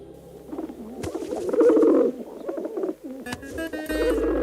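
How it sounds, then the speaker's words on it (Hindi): A pigeon cooing close by in low, throaty rolling phrases, with a sharp click or two and a brief bright tone near the end. "ये राजवंश का कबूतर है"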